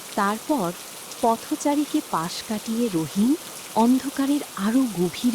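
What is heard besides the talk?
rain falling during a storm, cartoon sound effect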